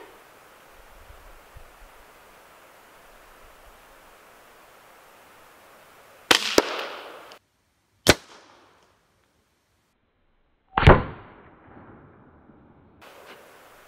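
A CCI .22LR subsonic 40-grain hollow point round is fired into a clay block outdoors, giving three sharp, loud reports spaced several seconds apart over faint background hiss.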